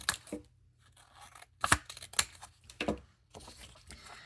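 Scissors cutting paper up close, a handful of crisp snips and rustling cuts at uneven intervals, clear over a quiet background with no talking.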